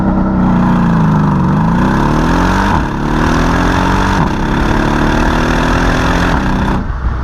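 Loud, continuous V8 exhaust note from a stock-exhaust Mercedes E63 AMG, revving and rising in pitch in several sweeps with brief dips between, close and sustained, no talking.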